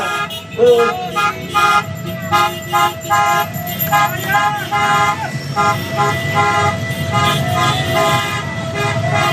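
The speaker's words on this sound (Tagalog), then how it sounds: "Busina. Busina. Busina. Busina. Busina." Multiple car horns honk loudly and persistently in overlapping blasts of varied pitch, some short toots and some long held tones, forming a continuous din with voices faintly mixed in underneath.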